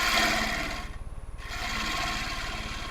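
A tool cuts into a redwood driftwood burl, giving a steady, close rasping grind with a rapid buzzing texture that dips briefly in the middle before resuming.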